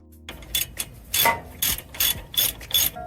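Socket ratchet loosening the knuckle bolts on a Toyota Yaris during suspension repair, a series of sharp clicking ratchet bursts in an uneven rhythm, close up with no talking.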